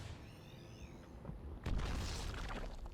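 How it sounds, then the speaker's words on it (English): A Reaper's grenade detonates in a StarCraft II match, a single deep boom with a rumbling tail that follows a thin whistling rise, loud and alone with no voices over it. "Now he sends his Reaper on a bit of a flight as he bops it with the grenade."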